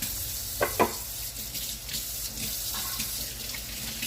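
Water runs from a kitchen tap as hands are washed, a steady close hiss with a couple of brief splashes early on.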